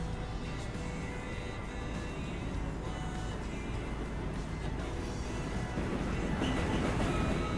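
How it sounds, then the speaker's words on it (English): A video game train rolls past in the Australian outback with a continuous rumbling clatter, heard as steady background noise at moderate volume, growing slightly louder toward the end. "the train sound is really loud"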